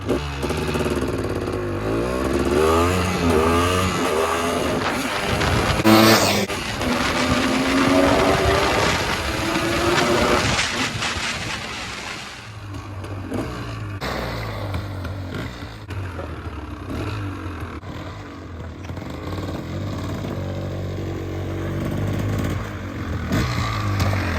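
A Honda ATC250R three-wheeler with its stock exhaust pipe rides past loud and close, its two-stroke engine revving and dropping through gears with steady rasping roar throughout.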